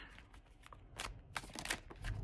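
A deck of bent playing cards is shuffled by hand, giving a faint, close series of papery riffles and flutters in uneven bursts. No one speaks.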